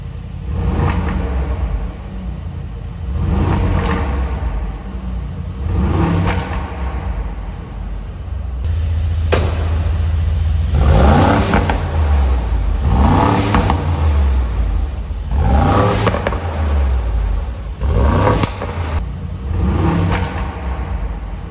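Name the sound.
Brabus G800 XLP pickup exhaust revving in Sport Plus mode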